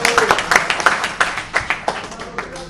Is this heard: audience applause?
yes